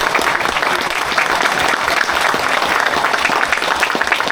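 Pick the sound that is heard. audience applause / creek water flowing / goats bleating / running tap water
audience applause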